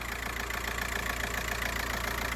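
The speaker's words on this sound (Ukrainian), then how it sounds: "Можете чути, як працює двигун, а працює він просто ідеально." A 2005 Volkswagen T5 with a 1.9 TDI diesel engine idling, a close, steady, even diesel clatter with a regular low pulse and no voices.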